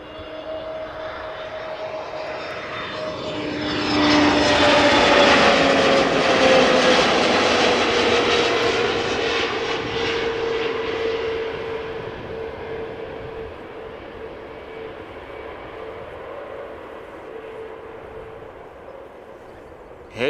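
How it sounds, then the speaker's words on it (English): An easyJet Airbus A320neo arriving at Amsterdam Schiphol roars past, the engine noise swelling to a loud peak and then fading slowly into the distance with a falling whine. "quick peek behind me for an Easyjet A320 Neo that is arriving"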